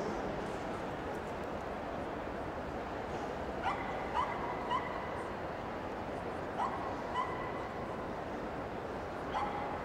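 At an obedience competition, an injured former police dog gives a few short whimpers and yips at a middle distance over a steady indoor crowd hum.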